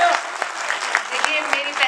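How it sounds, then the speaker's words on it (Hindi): An audience at a mushaira poetry recital claps in a brief, moderately loud burst, with scattered sharper individual claps and faint voices mixed in. "अगर सुनना चाहते हैं तो एक बार तालियां बजा दें"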